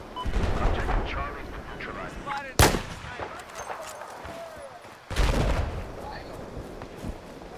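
Sniper rifle shots in Battlefield 4 crack out loud and close, two sharp blasts several seconds apart, each with a rolling echoing tail, over a steady bed of game battle noise.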